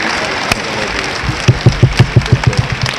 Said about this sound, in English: So y'all give this man a round of applause.